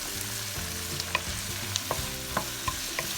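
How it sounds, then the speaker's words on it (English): Chicken kimchi fried rice being stirred in a hot sizzling pan, a steady frying hiss with a handful of sharp spatula scrapes and taps, close and alone. "Stir it for 3 minutes."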